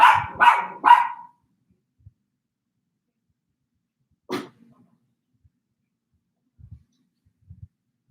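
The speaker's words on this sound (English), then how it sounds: "Puppies!" Puppies let out three quick high yaps in a row, close and fairly loud, followed by long quiet with a single sharp yelp and a few soft thumps.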